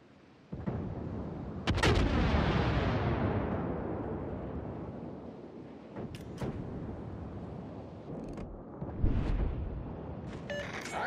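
Heavy artillery fire in a combat video game: a loud booming barrage that swells and rolls away over several seconds, with sharp cracking shots and later thuds breaking through.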